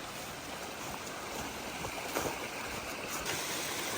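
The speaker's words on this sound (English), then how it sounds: "We got another little creek right here." A small creek flows along the Appalachian Trail, a steady, close wash of running water with no breaks or voices.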